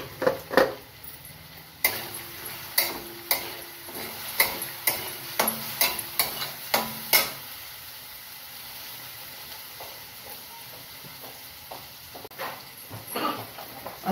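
Dal being stirred and sautéed in a pan with salt and turmeric for dry spinach bhaji, a series of sharp spoon scrapes and taps against the pan over a soft sizzle, close and regular, then quieter stirring.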